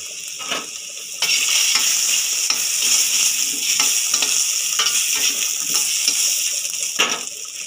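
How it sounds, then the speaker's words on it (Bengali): Potatoes with turmeric frying in a pan, stirred gently so the spoon scrapes through the steady loud sizzle in repeated strokes; no voices. "হালকা হাতে একটু নেড়ে দেবো। আলুতে একটু হলুদ দিয়ে দিলাম।"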